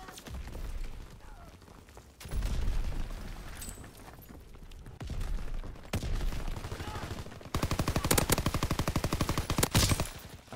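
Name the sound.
gunfire from a video game shooter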